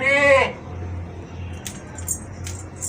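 A goat at a livestock market gives one close, loud, wavering bleat at the start, then a low background rumble with a few faint clicks and jangles follows.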